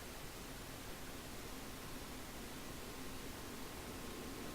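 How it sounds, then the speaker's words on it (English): An electric fan runs in the background as a steady, broadband whooshing hiss with no change in level and no voices over it. "I'm getting background sound from the fan going right now"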